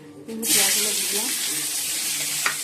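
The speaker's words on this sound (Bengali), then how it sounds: "পেঁয়াজটা একটু ভেজে নিই" Onions hit hot oil in a pan and burst into a loud, steady hiss that holds for a couple of seconds, with a brief clink near the end and a voice faintly underneath.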